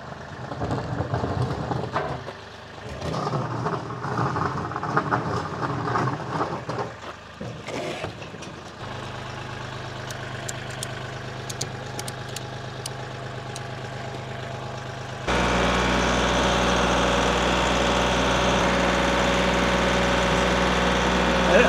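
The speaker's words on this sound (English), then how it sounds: "we'll get the tractor." A tractor engine runs steadily in a greenhouse work setting, a continuous mid-to-low rumble that starts behind brief outdoor sounds and grows louder and fuller partway through, holding a constant idle-like drone.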